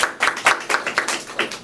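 Audience at a Korean student talk show on short-form video addiction claps in a brief burst of about a dozen quick, uneven hand claps, close and moderately loud.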